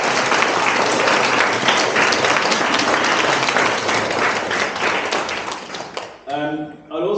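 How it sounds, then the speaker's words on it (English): A crowd at a student graduation show claps in a sustained round of applause that thins out near the end, with a voice starting to speak once it dies down. "So let's do the first of many rounds of applause."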